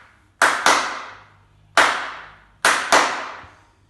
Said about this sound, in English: Sitting on a chair, practice and memorize the simple clapping rhythm.